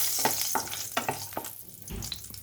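Bori lentil dumplings hit hot mustard oil with panch phoron in a kadai, giving a steady sizzle broken by several distinct crackling pops and stirring scrapes, with no talk.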